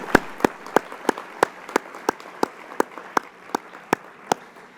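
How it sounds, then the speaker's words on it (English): Widely spaced individual hand claps from a small audience at a housing summit, about fourteen sharp, evenly paced claps over five seconds, fairly close and clear against a quiet room. "we can applaud."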